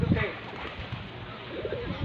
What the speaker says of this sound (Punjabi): ਇੱਕ ਕਬੂਤਰ ਆਇਆ ਇਹਨਾਂ ਦਾ ਦੋ ਪਹਿਲਾਂ ਬਹਿ ਗਏ ਆ ਇੱਕ ਹੋਰ ਆਇਆ ਵਾ